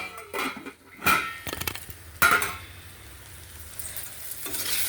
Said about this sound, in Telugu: ఇది పప్పుకి వేగుతుంది